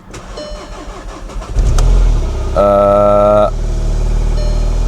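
An Audi S1 with a freshly fitted drive belt cranks and fires up, then settles into a loud steady run with a droning tonal whine in the middle, close by in a workshop.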